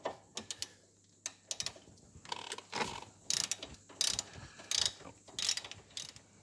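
A ratchet clicks in quick bursts of strokes while undoing a nut on a Ford Focus tie rod, close and crisp, with short pauses between runs of pawl ticks and no talking.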